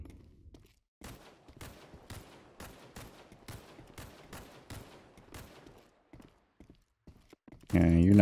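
Gunfire in the survival game Karagon, a series of sharp shots repeating in an irregular volley over several seconds, fairly close, ending with a loud tonal burst.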